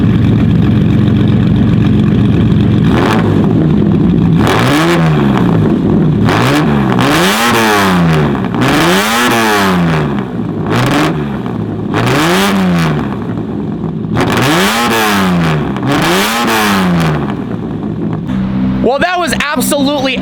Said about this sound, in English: The sound of a Countach V12 in an SUV.